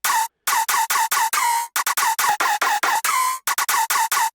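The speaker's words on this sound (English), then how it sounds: "So you can hear on this one, there's a little bit of a pitch bend going on, like a little pitch dive." Dry, tightly chopped synth pluck with a downward pitch dive, loud and alone: a rapid run of short stuttering hits near 1 kHz, with brief gaps and a few longer notes that bend downward.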